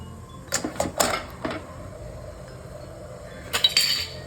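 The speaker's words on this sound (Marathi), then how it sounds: "आता आपण पाण्याला उकळी आलेली त्याच्यावर प्लेट ठेवून देऊया" A metal plate is set down onto a steamer sitting over boiling water while Crispy Alu Vadi is cooked, giving several close clanks around the start and another cluster of metallic clinks near the end.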